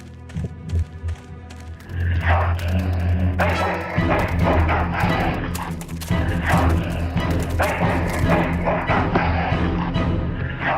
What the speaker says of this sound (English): That's one ill-tempered mongrel.